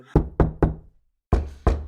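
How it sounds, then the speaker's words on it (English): A firm knocking on a door: three quick raps, a short pause, then two more, loud and close with no other sound. "Hold on, someone at the door."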